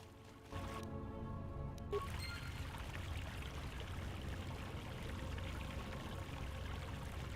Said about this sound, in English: The peaceful sound of the water helps clear your thoughts and calm your mind.